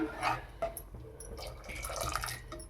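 Freshly ground milk being poured into a pot of macaroni milk payasam, a soft liquid splash and trickle with light clinks, close and fairly quiet.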